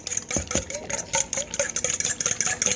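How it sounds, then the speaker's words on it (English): Whisk tapping and scraping through two eggs in a bowl, a quick irregular series of close clinks and swishes with no talk. "I'm gonna just kind of whisk these a little bit"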